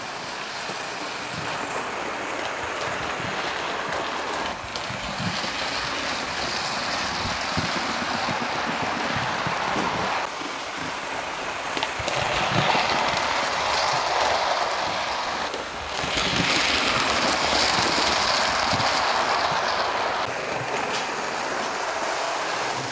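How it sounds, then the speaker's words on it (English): A GWR King locomotive pulls four Great Western coaches around a track, giving a steady rattling rumble of wheels and running gear that carries on without pause and grows somewhat louder in the latter half. "Yes, pulling 4 of the Great Western coaches seemed no problem. It just rattled around the track like a good one."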